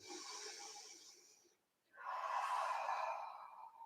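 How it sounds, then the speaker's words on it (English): A deep breath taken during a yoga session, a long audible inhale, a brief pause, then a slow, fuller exhale, close and fairly soft, with no talk. "A deep breath here."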